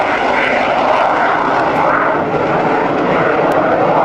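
Aircraft at East Midlands Airport or Manchester, a loud, steady engine roar close by with a broad rushing tone sustained throughout, no voices.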